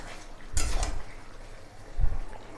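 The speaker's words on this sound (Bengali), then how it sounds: "এবার পনিরগুলো ভালোভাবে সব কিছুর সাথে মিশিয়ে দেব।" Paneer cubes stirred into chilli paneer sauce in a pan, giving two brief bursts of spoon-and-pan scraping and wet sloshing, moderately loud against a quiet background hiss.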